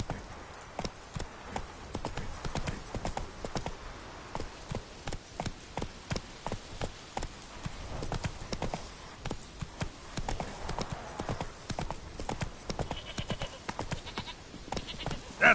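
Geralt's horse Roach galloping in The Witcher 3, a steady rapid hoof rhythm on the ground, continuous and fairly close, with no talk.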